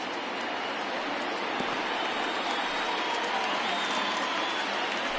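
A baseball stadium crowd of around 34,000 fans at a Marlins vs. Phillies game cheers steadily and loudly as they rise to their feet, a dense, continuous roar with no break.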